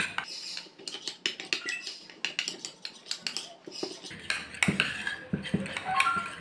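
A spoon briskly mixes budgie baby hand-feeding formula with a little water in a small dish, giving rapid, close metallic clinks and scrapes in quick bursts that keep going throughout, with no one talking over it.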